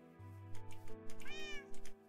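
Repeated meows from a Minecraft cat in a modded game world, a string of short pitched calls following a low droning tone, fairly close and clear with no talking over them.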